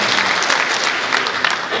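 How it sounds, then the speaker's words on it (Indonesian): Applause during a DPRD Sulawesi Utara council plenary meeting marking the province's anniversary: a loud, dense round of clapping from a large hall audience, sustained throughout with faint voices mixed underneath. "Tepuk tangan untuk"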